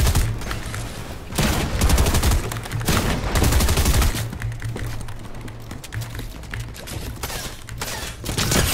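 Rapid bursts of gunfire from a Fortnite-style battle royale match in a duo cash cup final, loud, dense volleys repeating throughout with game ambience and no talk.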